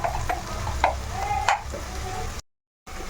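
Dried prawns with ginger paste and green chillies fry in a pan with a steady sizzle and a few sharp spatula clinks, cut by a brief total silence before the sizzling resumes.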